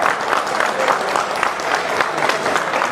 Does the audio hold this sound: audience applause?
yes